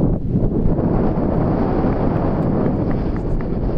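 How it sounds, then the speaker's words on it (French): Steady, loud wind buffets the microphone on an outdoor golf course during a scramble round, a continuous low roar with no pauses and no talk. "Ouais, mais ce vent, bordel!"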